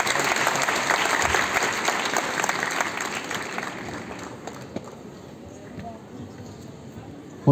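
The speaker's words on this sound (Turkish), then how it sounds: "Alkışlar Turgay Saka için geliyor." An audience at the Erbaa Altın Yaprak singing contest applauds singer Turgay Saka, a dense roar of clapping that is loud at first and gradually thins and fades, with some crowd voices mixed in.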